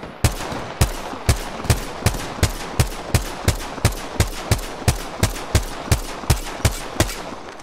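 Evenly spaced gunshots in Apex Legends, about eighteen loud, sharp reports fired one after another at a steady semi-automatic pace, close and clear, with no voices.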